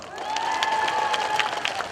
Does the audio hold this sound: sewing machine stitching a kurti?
no